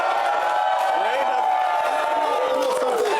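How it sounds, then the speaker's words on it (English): A stadium crowd of football fans cheers and whoops in a steady, loud roar of many voices, with scattered shouts rising above it and no break in the noise. "Did you hear these guys cheering?"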